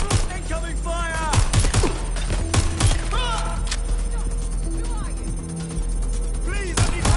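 Gunfire in Watch Dogs Legion, a busy game mix of repeated shots and thuds under background game voices, with whistling tones over a steady low rumble.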